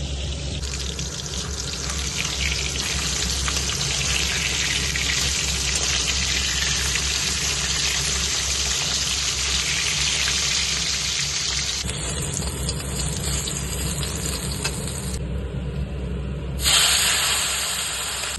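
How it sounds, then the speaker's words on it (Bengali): Small mourala fish fry in a pan of hot oil, giving a continuous, fairly loud hissing sizzle that holds steady for a long stretch, shifting in texture now and then, with no voices. "মাছগুলো ভাজা হয়ে গেছে"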